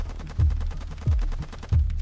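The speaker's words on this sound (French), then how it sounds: "Shérif Kouachi sort alors du bâtiment et tire sur leur véhicule" Gunfire during the Charlie Hebdo attack in Paris: three loud, sharp shots spaced roughly evenly over two seconds, each a heavy low thump ringing out over a continuous background rumble.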